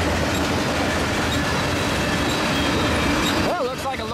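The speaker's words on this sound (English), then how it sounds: "Well, it looks like a loaded ethanol train." A loaded Union Pacific ethanol train rolls through a crossover with a continuous loud rumble and rail clatter, ending in squealing wheel tones at the close.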